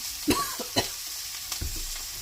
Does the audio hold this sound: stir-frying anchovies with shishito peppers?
yes